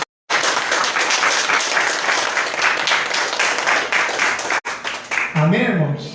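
A Pentecostal congregation applauds in church, with loud, sustained clapping from many hands filling the room after a brief silence and cutting off near the end, where a voice speaks.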